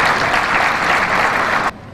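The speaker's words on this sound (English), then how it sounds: "Let's give her a round of applause as she comes up." A crowd claps as Emma Donnelly comes forward to speak, loud, close and continuous applause that cuts off abruptly near the end.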